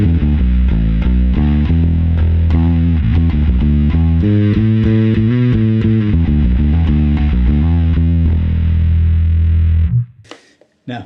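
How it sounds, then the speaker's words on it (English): A bass guitar through a Boss Katana amp with a distortion tone blended into the clean signal plays a loud, gritty riff of repeated notes for several seconds, then stops abruptly, followed by a few brief clicks. "we've got a bit of distortion just to put a bit of hair onto the note"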